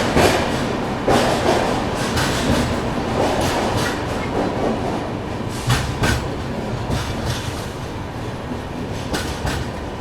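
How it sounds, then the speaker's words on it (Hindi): A CR Rajdhani Express push-pull train running at speed, heard from onboard as a steady loud rumble with repeated clickety-clack wheel beats over the rail joints throughout. "निकलते ही निकलते अच्छी रफ्तार पकड़ ली अपनी सीआर राजधानी ने।"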